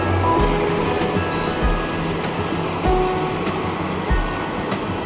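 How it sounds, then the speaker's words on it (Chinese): An old-fashioned train in Taiwan rolls steadily past close by, its wheels thumping in a regular clattering rhythm over a low rumbling drone. "哦，是很复古的火车哎"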